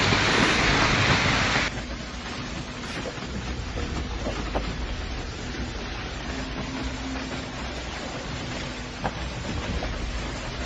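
Large hail pounding down during a Tennessee storm, a dense close roar of impacts that drops to a steadier, softer rattle after the first two seconds, with scattered sharper hits and no talk.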